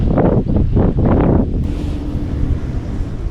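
Strong wind at Caliraya Lake in Lumban, Laguna buffets the microphone in loud, rumbling gusts that surge and ease, then settle into a steady roar.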